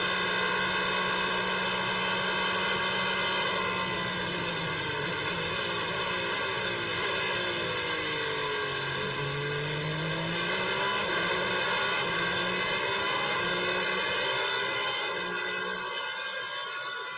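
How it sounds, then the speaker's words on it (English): A Peugeot race car on an onboard lap of Fuji in a sim racing game, its engine a loud continuous high whine with sweeping pitch changes through acceleration and lifting off throttle, running alone without talk. "here goes the onboard lap of the Peugeot"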